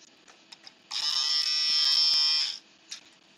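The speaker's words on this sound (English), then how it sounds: "Oh, an electric razor. So you can shave yourself now." An electric razor buzzes steadily at close range for nearly two seconds, a loud, even drone that starts abruptly and cuts off cleanly, with a few faint clicks before and after.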